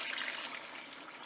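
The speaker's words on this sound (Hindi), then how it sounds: "अब हमने इसमें पानी शामिल कर देना है 4 कप" Four cups of water poured into chicken shorba cooking in a pan, a steady continuous splashing rush at close range throughout.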